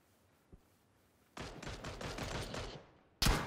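Gunfire in the video game PUBG, a single faint shot followed by a sustained burst of automatic fire and then a sharp loud shot at the end.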